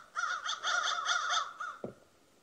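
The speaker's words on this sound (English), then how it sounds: "Oh, those crows are loud." A crow caws in a quick series of about six harsh calls near a horse farm, fairly close and loud, followed by a soft thump at the end.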